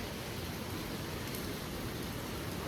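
First rain of the season falling at dawn around 5:45 in Surat, a steady, even hiss of rainfall with no break and no voices.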